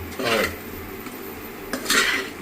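A utensil stirs and mixes puliyogare tamarind rice in a pot, making two bursts of scraping and clinking against the metal over a low background hum, with no speech.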